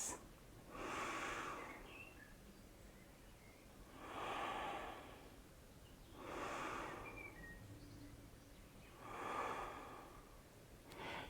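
Four deep, slow breaths taken during a seated yoga twist, each a long airy inhale or exhale a few seconds apart, close and fairly quiet with no talking.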